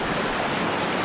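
A river on Réunion island rushes in a steady, dense broadband roar, loud and continuous with no talk.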